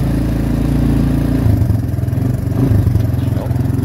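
A 1984 Honda TRX200 four-wheeler engine runs loud and close while being ridden, a steady low drone with pulsing rises as it revs and changes load, continuous throughout.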